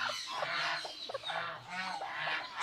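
A Golden Sebright hen, a fancy bantam chicken, gives a few loud, harsh honking calls in close succession, heard up close.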